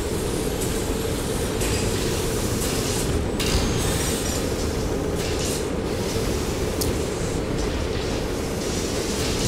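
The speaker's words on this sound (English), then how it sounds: "sound of a locomotive coming at you 200 kilometers an hour." A locomotive in the video game Poppy Playtime rumbles steadily as it approaches, a loud continuous roar of rolling wheels with occasional squeals and clatter, no talking.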